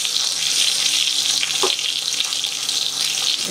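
Sausages go into a hot frying pan, already cooking beside bacon in a mixed grill, and sizzle in a loud, steady hiss. A brief knock is audible partway through, and no one speaks.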